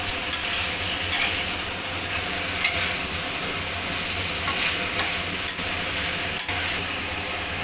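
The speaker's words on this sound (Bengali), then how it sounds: "এবার চিকেনটা দিয়ে ভালো করে নাড়িয়ে নেব" Chicken kosha with fried potato and papaya is stirred in a sizzling pan, a constant close hiss with scattered scraping and tapping of the spoon against the pan, no speech.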